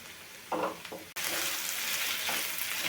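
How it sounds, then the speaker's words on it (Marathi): Capsicum frying in oil for a besan-coated shimla mirchi sabzi: a steady, close sizzle that briefly cuts out, then returns louder and fuller, crackling on without pause. "तुम्हाला दिसत असेल शिमला मिरची कशी आपली फ्राय झाली तेलामध्ये"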